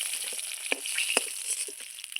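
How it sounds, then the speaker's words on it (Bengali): Sole fish frying in oil makes a faint, thin sizzle with a few soft clicks as pieces are lifted from the pan. "আমার মাছ ভাজা হয়ে গেছে, দেখুন আমি মাছগুলো খুব সুন্দর করে তুলে নিচ্ছি।"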